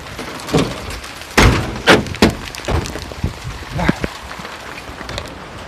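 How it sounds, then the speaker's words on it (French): Hail drumming on a house roof, a steady rain-like patter with several loud, sharp thuds standing out in the first half before it settles into softer scattered hits. "là avec la grêle sur le toit ça fait un peu de bruit"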